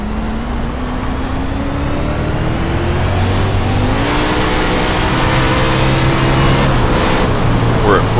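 A 410 winged sprint car engine drones steadily through an iRacing qualifying lap at Bristol Motor Speedway on dirt, its pitch climbing and dipping with throttle, loud and continuous throughout.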